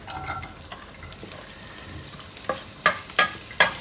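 Sliced onions and curry leaves sautéing in a little hot oil, a gentle sizzle punctuated by several sharp spatula scrapes and stirs against the pan, the strokes louder and more distinct in the last second.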